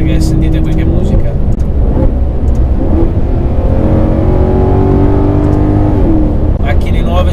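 A Maserati GranTurismo Sport with a naturally aspirated V8 revs loudly and close by, its engine note rising and holding in a sustained, throaty roar, with a person talking over it.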